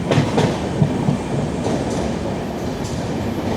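Duronto Express running into Payyangadi station, heard from aboard as a steady loud rumble of wheels on rail with clickety-clack beats early on, no talk.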